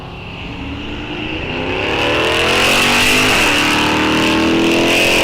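Drag racing cars launching at Rock Falls Raceway during the NHRA Wisconsin State Championships, engines roaring louder as they accelerate away, a sustained, rising wail with shifting pitch.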